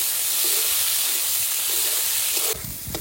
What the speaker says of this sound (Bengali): কাঁচা লঙ্কা চেরা, পেঁয়াজ কুচি। এবার এটা ভালো করে একটু ভেজে নেব।